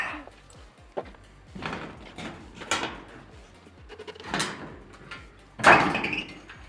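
A door is handled and opened at a site office by apartment buildings under construction in Kyiv, giving several separate thuds and rattles, the loudest near the end, with quiet movement noise between them.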